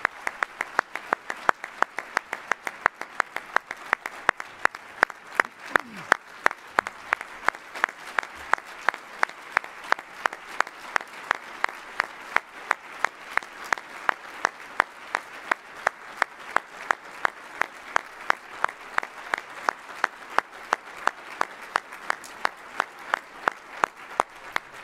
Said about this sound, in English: we owe you a huge, huge round of sincere applause